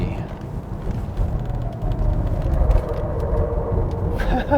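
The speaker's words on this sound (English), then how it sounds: "now let's try the corner with Genesis" A 2021 Genesis GV80 SUV with all-wheel drive and adaptive suspension takes a corner on the road, heard as a steady low engine and tyre rumble from inside the cabin, with no talk.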